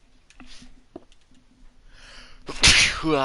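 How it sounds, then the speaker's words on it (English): A few soft clicks and faint breaths, then a single loud, close sneeze bursts out near the end, followed by a brief voiced exhale. "Coughing, I'm sneezing."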